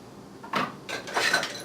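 A spoon scrapes and clinks through an Asian asparagus salad in a bowl, two or three brief close stirring strokes with light metallic ticks.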